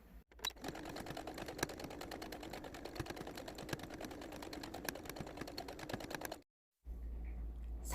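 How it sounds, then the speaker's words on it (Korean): Sewing machine topstitching a sun hat, a fast, even stream of close, quiet needle ticks for about six seconds, then a pause before running again. "다시 뒤집어서 상침 1cm씩 한 5번 정도 놔주도록 하겠습니다."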